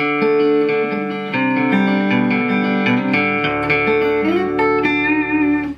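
A Taylor T5 Custom acoustic-electric guitar through a modelling valve amp plays sustained chords and a few plucked notes, bright and ringing with a slightly processed, less acoustic-sounding amp tone, no voices.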